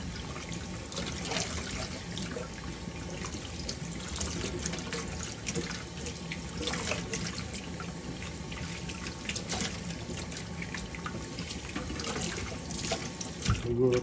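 Water runs steadily from a tap into a container while salted eggs are rinsed, a constant splashing rush with faint clinks, and a voice speaks briefly beneath it.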